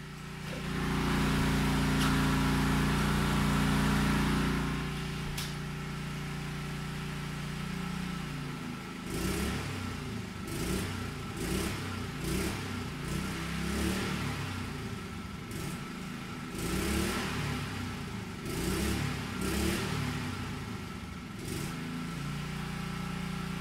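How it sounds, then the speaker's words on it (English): An engine idles loudly, then is revved again and again in uneven bursts and stalled between them, with no talking. "I'm going to go rev and stall and rev and stall the engine"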